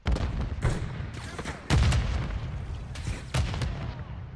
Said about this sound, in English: He hit me with the grenade and it stunned me